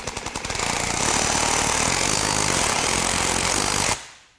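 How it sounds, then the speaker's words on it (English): Cordless right angle impact wrench hammering at a socket, a steady loud rapid rattling burst lasting several seconds after a brief start-up, then stopping abruptly. "as I grab it, now we hear that hitting sound"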